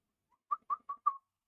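Outdoors, a bird, likely a dove, gives four short soft coos in quick even succession, faint and somewhat distant, with nothing else around them.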